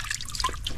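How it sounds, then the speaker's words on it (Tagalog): Water trickling and dripping out of a pipe at an outdoor laundry spot, a close, wet, bubbling dribble lasting under a second. "Hintayin mo may lumabas na tubig yan sa tubo."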